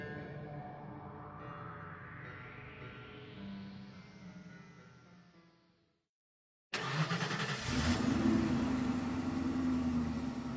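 A car engine roars, its pitch rising and falling before fading to a brief silence, then a louder, denser rumble surges back in and holds steady, with no voices.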